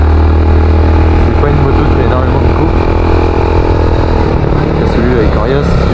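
Yamaha YBR 125 motorcycle engine droning steadily while riding, with wind rush and a person talking over it throughout.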